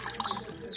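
Grated coconut squeezed by hand to press out coconut milk, with wet dripping and trickling of liquid close by, a few soft splashes over under a second.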